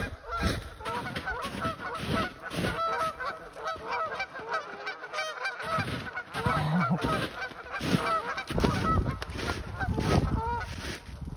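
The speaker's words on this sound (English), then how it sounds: "There's a goose fight going on." Geese honk loudly and repeatedly in a noisy, agitated squabble, overlapping harsh calls and flapping close by.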